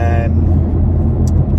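A 600 BHP BMW M4 driving, a loud steady engine and road rumble close up, with a brief higher burst near the end and no talk over it.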